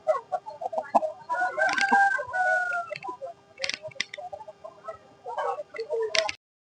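A rooster at the Pileru poultry market crows once in a long, drawn-out call, surrounded by bursts of hen clucking and squawks from nearby fowl.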